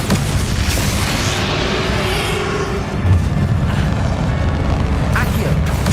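A Bombarda blast spell goes off in Hogwarts Legacy as Ranrock is fought. Heavy, continuous rumbling booms sit close and loud, a stronger burst lands about halfway through, and a voice talks over the din.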